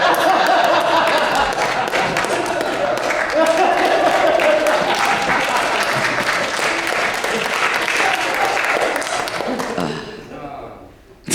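Sustained audience applause at a stand-up comedy special, loud and dense with scattered laughter and cheering mixed in, lasting about ten seconds before tapering off quickly at the end.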